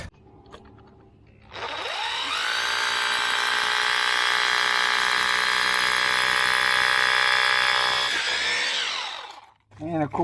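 A power drill bores a hole for a wall anchor, running steadily at high speed for about six seconds after a short start, loud and close, then winding down.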